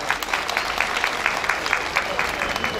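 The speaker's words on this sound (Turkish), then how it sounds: "Güçlü alkış alabilir miyiz lütfen 15 Temmuz meydanından?" Brief applause from a crowd gathered at an outdoor regional-days stage event on a public square, with rhythmic, somewhat unified clapping over a background hum.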